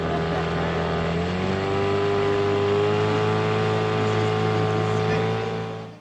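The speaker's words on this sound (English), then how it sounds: "Engine running!" A sailboat's engine hums steadily up close, its pitch shifting once before settling into a constant drone.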